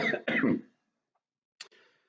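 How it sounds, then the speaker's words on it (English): Two quick, harsh coughs close by, followed after a short silence by one softer cough. "The cough's back."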